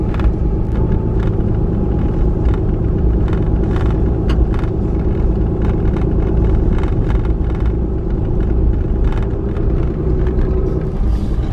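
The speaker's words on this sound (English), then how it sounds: "Yeah, very bumpy though with this gravel road." A car travels a bumpy gravel mountain road through fall scenery in Cataloochee Valley, North Carolina, giving a loud, steady low rumble with scattered rattles and clunks from the rough surface throughout, no voices.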